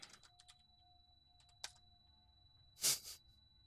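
Sparse keystrokes on a computer keyboard while coding in Godot: a few scattered soft clicks early on, then a louder burst of clattering keys near the end, all quiet and close.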